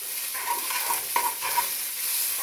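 Brown sugar being stirred into browning ground sirloin for gluten-free chili, with a spoon scraping and stirring in short strokes over a soft, steady sizzle, close and clear with no voices.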